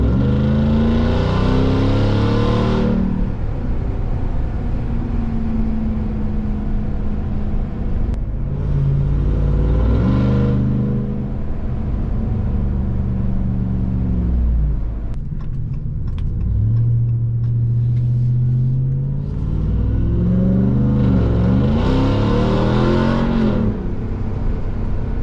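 A Ram TRX with an aftermarket exhaust roars loudly up close, pulling hard through repeated rising acceleration runs to high revs, with shift breaks between pulls and deep rumbling throughout.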